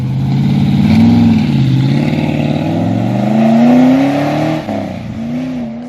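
A Ford Falcon with a 5.7-litre 351 Cleveland V8 accelerates hard, its loud, steady engine note climbing in pitch through the gears with a brief dip near the end.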